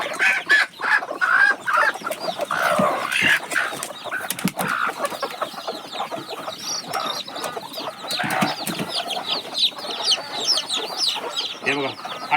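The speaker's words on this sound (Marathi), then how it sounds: "कोंबड्या बसून आणि त्यांच्या खाली पिल्लं निघालेली" Desi village hens and their newly hatched chicks cluck and peep continuously, with busy overlapping calls and occasional wing flutters close by.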